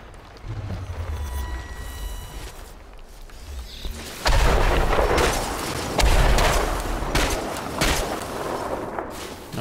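Gunfire in the video game Chernobylite, several heavy booming shots and blasts over a rumbling game soundscape, loud and close, with a quieter stretch before the firing picks up.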